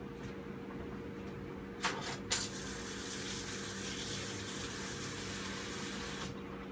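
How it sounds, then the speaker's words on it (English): Tap water runs steadily into a kitchen sink as hands are rinsed, a constant close hiss with a couple of brief splashy bursts near the start and a short surge near the end. "Let me rinse my hands real quick."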